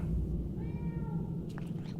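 A cat in Murdered: Soul Suspect gives a single short, fairly faint meow over a low background hum, with a brief clatter just after.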